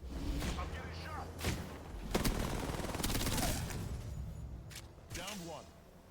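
Gunfire in the video game Apex Legends, rapid bursts of shots and thuds in a busy firefight, loud and repeated throughout, with a voice speaking in places.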